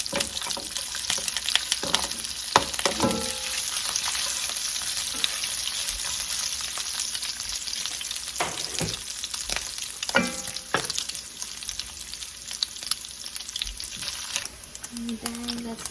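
Corned beef sizzles and fries loudly in a pan, with a continuous hiss and intermittent scraping and stirring clatter from utensils throughout.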